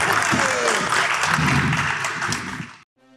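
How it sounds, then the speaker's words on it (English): A convention crowd claps steadily at a Dragon Ball Z voice actor panel at Thy Geekdom Con 2025, with voices talking over the dense clapping before it cuts off abruptly near the end. "All right, one more round of applause."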